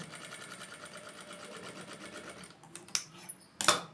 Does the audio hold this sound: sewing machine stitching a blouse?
yes